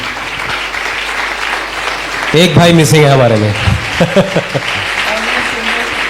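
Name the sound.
audience applause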